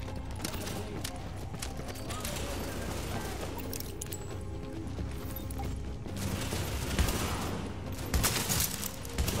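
Gunfire in The Division video game with shotguns in play: dense, continuous combat noise with repeated shots and mechanical clatter, heavier blasts toward the end, and players' voices mixed in.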